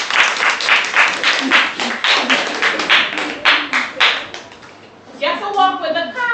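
A small group claps in a series of sharp, closely spaced hand claps for several seconds, then falls quiet as a voice begins speaking near the end.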